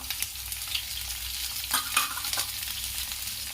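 Cumin, ginger, garlic and chilli fry in a hot pan with onion for an aloo matar sabzi, a steady close sizzle broken by a few stirring scrapes near the middle.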